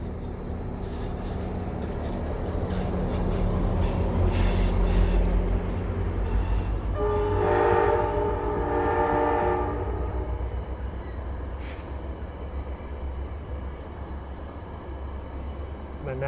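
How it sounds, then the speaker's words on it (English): A VRE commuter train rolls past near the Pentagon in Arlington, a steady loud rumble with a bright horn-like tonal stretch midway, while people talk faintly in the open air. "Oh, it sounds like a train."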